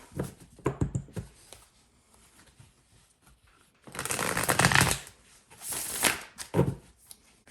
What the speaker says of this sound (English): So now we're going to pull some light seer tarot, and then we're going to clarify with the miniature light seer tarot.